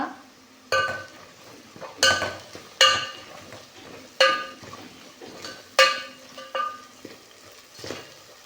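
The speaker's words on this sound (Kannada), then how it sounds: "ಒಂದು ಸ್ಪೂನಷ್ಟು ಧನ್ಯ ಪೌಡ್ರ್ ಹಾಕೊತಾ ಇದ್ದೀನಿ ಒಂದು ಒಂದು ಕಾಲು ಸ್ಪೂನಷ್ಟು ಸಾಕು ಇದನ್ನು ಚೆನ್ನಾಗಿ ಫ್ರೈ ಮಾಡ್ಕೊಳ್ಳೋಣ" Coriander powder fries in a pan for a Kerala-style fish curry, with repeated clanks of a spoon against the pan over a low sizzle, the knocks coming about every second.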